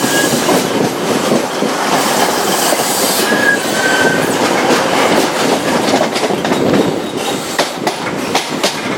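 A TransPennine Express passenger train rolls past close by on a rural line between Hutton Cranswick and Nafferton, a loud continuous roar of wheels with rhythmic clickety-clack over rail joints and brief squeals, no talking.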